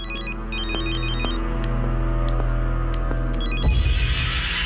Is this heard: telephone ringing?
yes